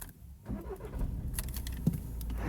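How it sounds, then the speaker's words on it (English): A car engine cranks and catches at close range, with a brief jangle of keys and a low rumble building into a steady idle; no one speaks. "right now we're gonna go and start the car and let's go home."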